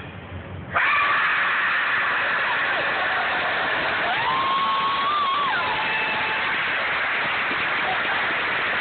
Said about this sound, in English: I think that starts another round of applause